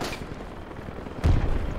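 Gunfire with tracer rounds coming from a bridge in the tactical shooter Project Reality, a distant crackle of shots followed by one loud, close boom near the end.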